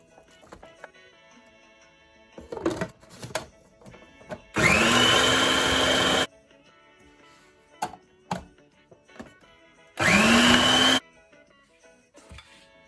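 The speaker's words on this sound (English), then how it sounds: "So here's my chopped veggies. I have removed it from the food processor" A food processor chops vegetables for a Jamaican roast fish dish, two loud steady motor bursts of whirring and chopping, about one and a half and one second long, with quiet kitchen clatter and knocks between them.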